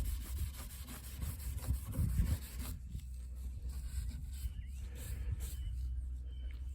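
Hand-sanding the painted body of a 1965 Dodge Coronet, steady scuffing strokes rubbing back and forth, close and moderately loud, heavier at first and then lighter and smoother.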